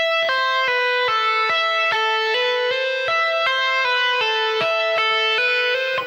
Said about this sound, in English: we do the descending version first, and then the ascending version straight after on the same string